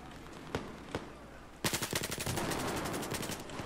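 Gunfire in the video game Battlefield 4, Hainan Resort map in Domination mode: two separate single shots, then a loud, rapid automatic burst that runs to the end.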